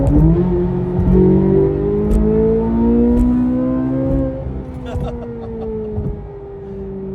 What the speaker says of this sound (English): before we drop a couple gears, get this thing rowdy